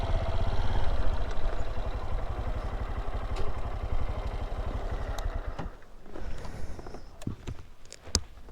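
A Honda XRE 190 motorcycle engine idles steadily and close by after being parked, a low continuous rumble with some clatter that fades and grows uneven toward the end amid scattered knocks.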